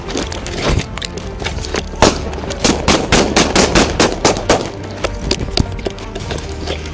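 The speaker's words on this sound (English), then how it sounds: "Shots fired, shots fired." Gunshots fired in a street during a police confrontation, a rapid irregular volley of sharp cracks over a couple of seconds amid loud, chaotic background noise.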